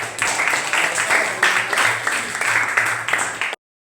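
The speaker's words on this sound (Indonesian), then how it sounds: "berikan tepuk tangan untuk Mela." A class of students applauds a classmate. Clapping mixes with brighter voices and cheering in surging waves, then stops abruptly after about three and a half seconds.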